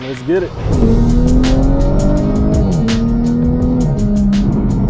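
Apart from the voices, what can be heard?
Audi with stock turbo accelerating on a ride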